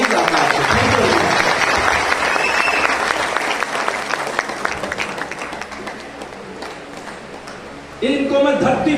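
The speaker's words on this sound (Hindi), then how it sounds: "जोरदार तालियां, इतनी तालियां नहीं चाहता" Sustained, loud applause from a seminar audience in a Hindi motivational talk rolls on for several seconds, thinning slightly before a burst of renewed clapping and voices near the end.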